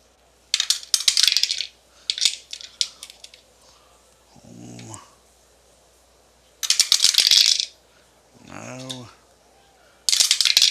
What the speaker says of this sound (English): Keep dropping dice.